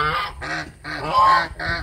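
A pair of swimming geese honk in a rapid, loud run of harsh calls close by, alarmed by a stranger dressed in red.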